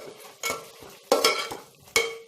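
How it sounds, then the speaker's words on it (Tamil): Stirring and sautéing tomato and onion in a pan for kuska, with three distinct scraping strokes of a spoon against the pan over a soft sizzle, close and clear with no talking. "சேர்த்து விட்டுட்டு நல்லா இதை வதக்கி விடுங்க."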